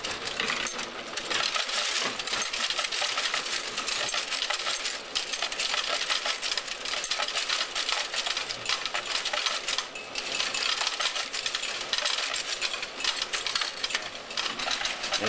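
Typesetting machine at a printing museum cycling continuously, a dense loud clattering mechanical rattle with rapid metallic clicks and hiss that runs steadily throughout with no voices.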